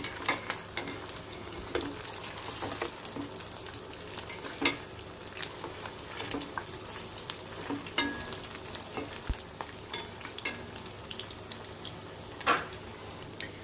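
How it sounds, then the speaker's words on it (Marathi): Rice pakoras fry in oil over a medium-low flame, giving a steady soft sizzle with scattered light crackles and occasional clinks of a utensil, close and fairly quiet. "मीडियम टू लो फ्लेमवरच फ्राय करून घ्यायचं आहे"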